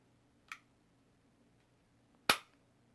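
Trigger reset clicks from a Smith and Wesson CSX micro 1911 pistol: two sharp, isolated metallic clicks, a softer one followed by a louder one about two seconds later, close up in a quiet room.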